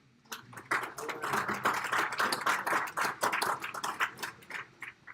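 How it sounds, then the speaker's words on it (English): An audience applauds at a community candidates night event, a dense spread of clapping hands that swells quickly and carries on steadily with a few louder individual claps standing out. "Don't clap too long, because the longer you clap, the more I'll talk."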